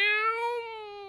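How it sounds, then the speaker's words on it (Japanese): A single long, tonal meow, clear and close, bending slightly in pitch before trailing off, alone without talk. "猫"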